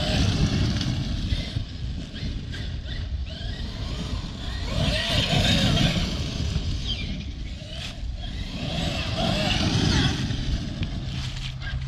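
A Traxxas X-Maxx RC truck drives around a yard, its electric motor whining and rising and falling under continuous rough rumble and wind, with a voice talking faintly at times.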